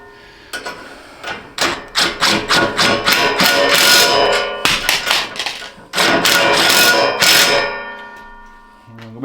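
An impact wrench tightens a nylock nut on a welding cart in loud, rapid hammering bursts, two long runs of rattling blows separated by a short pause and ending with a brief fade.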